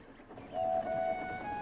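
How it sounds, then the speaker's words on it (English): Breakdown train pulling away from a railway yard, a steady rumbling rail bed topped by a sustained clear whistle tone that swells in the middle and holds to the end, with no talking. "Donald set off with the breakdown train"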